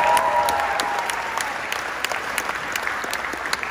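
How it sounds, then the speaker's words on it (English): An audience claps steadily at a high school band's senior recognition event, with continuous, fairly near applause that fades slightly over time. "Let's hear it one more time for Anna"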